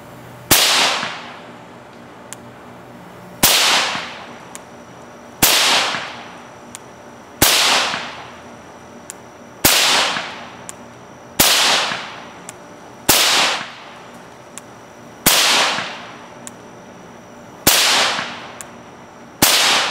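Nine sharp rifle shots from a Ruger 10-22 firing CCI .22 ammunition, spaced roughly two seconds apart, each loud crack followed by a short echoing decay, with no voices.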